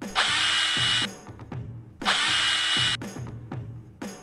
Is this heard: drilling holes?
yes